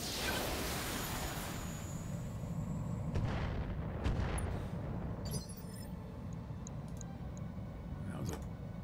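Artillery fire from a mech in the BattleTech video game, a low rumbling barrage that is fairly quiet and steady, with a few sharper impacts in the middle and no talking.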